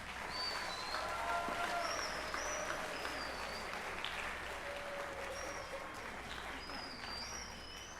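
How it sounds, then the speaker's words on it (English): Steady applause from an audience at a middle school band concert, fairly soft and somewhat distant, continuing throughout with a few faint chirps above it. "How about a nice round of applause for those folks?"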